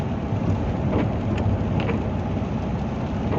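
Steady rain hissing and pattering close by, a dense continuous wash with a few faint sharper taps.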